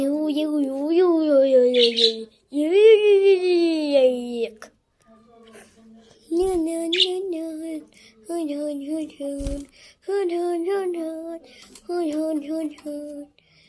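A bird chirps and warbles in bright, tonal phrases with short pauses between them, close by and fairly loud, and there is no talking.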